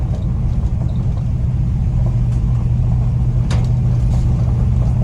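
A 1979 square-body truck with a big-block engine runs with a deep, steady low rumble that holds for several seconds inside the cab, with no one speaking.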